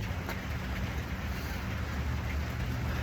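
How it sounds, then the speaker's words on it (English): Steady rain falls outdoors during a workout session, a continuous close hiss of drops with a low rumbling undertone throughout, no voices. "I hope it will rain a little bit harder."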